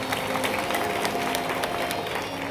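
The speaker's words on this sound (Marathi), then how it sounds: "एकदा साऊंडसाठी जोरात टाळी वाजवा." A crowd at a devotional shahiri performance applauds for the sound crew, a dense, steady roar of clapping filling the space at a loud, even level.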